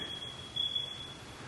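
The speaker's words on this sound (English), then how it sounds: "Definitely need some batteries in these smoke alarms." A thin, high electronic beep from a smoke alarm's low-battery chirp sounds intermittently in a quiet room, faint and steady-pitched.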